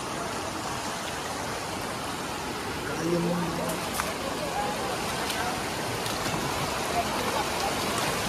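A tall waterfall near Devgad pours into a rocky stream, a constant broad rushing and splashing roar that fills the scene, with a voice briefly speaking over it.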